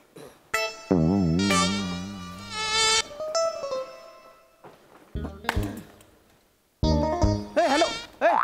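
Cartoonish insect buzzing effects in a comedy sketch about pest control, with warbling, wavering tones in several bursts separated by brief gaps and thuds.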